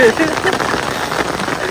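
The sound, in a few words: rain falling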